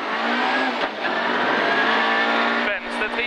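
A rally car at a gravel stage start in Vetlanda accelerates hard, its engine revving high and loud through the gears, then dipping briefly on a shift before pulling again.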